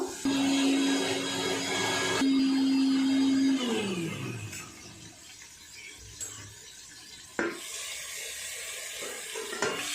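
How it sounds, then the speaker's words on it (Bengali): An electric grinder crushes poppy seeds with a loud, steady whirring drone for several seconds, then winds down and stops, leaving a few soft clicks and taps. "আমি পোস্তটাও একটু বেটে নেব।"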